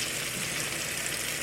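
Chicken breast frying in a 10-inch skillet gives a steady, close hiss and crackle of hot oil. It is fairly faint and continuous, with no talk.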